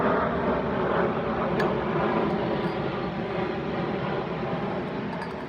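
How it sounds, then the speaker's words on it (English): A passing airplane fills the air with a steady, broad roar that stays loud and gradually fades toward the end, with no talking over it. "I want to wait for this airplane to pass"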